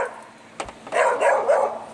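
A dog barks a few times outdoors at a passing skateboarder, the barks fairly close and rhythmic over a steady background hum.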